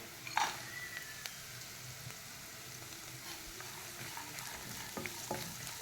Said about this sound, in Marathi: आपण हे पूर्ण भाजून घ्यायचं आहे